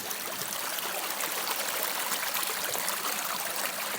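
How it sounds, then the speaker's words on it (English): Water running through an old concrete and stone irrigation canal in the countryside near Antequera, a steady close rushing and trickling flow with no speech. "Here's a stream. Well, it's not a stream, it's a little canal. You can hear it."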